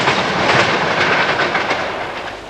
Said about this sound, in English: even today the trains look very small as they go through Olive Mount cutting